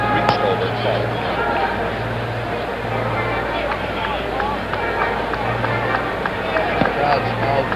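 A baseball stadium crowd at the 1970 World Series, Reds at Orioles in Baltimore, keeps up a constant roar and babble, with scattered shouts and claps, while a broadcaster talks over it.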